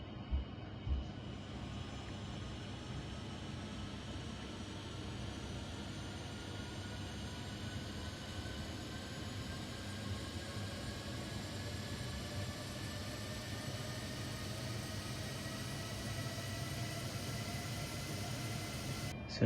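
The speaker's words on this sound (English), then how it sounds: "the sound that it's making now is the sound of the APU starting up." A Boeing 737-800 auxiliary power unit spins up in the Aerofly FS flight simulator game, a steady mechanical whine that slowly rises in pitch over a constant low rumble, with no talking.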